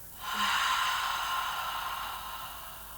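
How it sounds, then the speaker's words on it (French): A forceful breath pushed out through the throat during a Pilates breathing exercise, one long airy hiss that starts abruptly and slowly fades over about two seconds, close and alone. "Soufflez par la gorge en creusant davantage l'abdomen."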